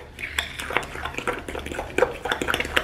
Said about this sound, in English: Put one egg in, you stir, you put in another egg. I just put them both in. And I'm just gonna mix this all together.